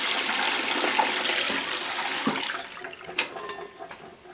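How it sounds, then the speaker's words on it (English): Raw milk cottage cheese curds and whey are poured and drained into a pot, giving a steady close rush of splashing liquid that tapers off with a few louder sloshes near the end. "Now we're just going to drain this into our pot."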